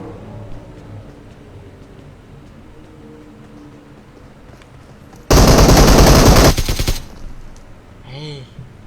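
Automatic gunfire rips out in a loud, rapid burst of about a second and a half during a squad battle video game, after quieter game sounds with a faint voice, then tapers into a trailing tone.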